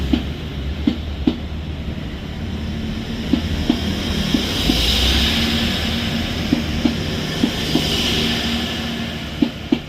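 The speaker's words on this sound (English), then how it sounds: "1 Alpha 64 1A64 from Sunderland to Kings Cross, calling at York and then London Kings Cross." A passenger train, the Sunderland to Kings Cross service, runs through Thirsk station with a steady rumbling roar and a regular clickety-clack of wheels over rail joints, loud and close.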